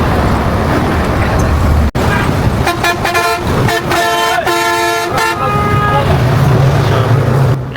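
A fast non-AC passenger bus on a highway sounds its horn in a run of loud, close, rapid toots over steady engine and road roar, then the horn stops and the motor keeps droning.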